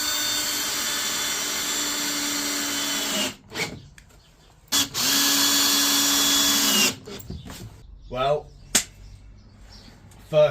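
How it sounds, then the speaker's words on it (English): A power drill drives screws into the last plywood floor piece of a camper conversion, three loud close whirring bursts with short pauses between, followed by quieter clicks and handling noises. "Now to screw in the last piece,"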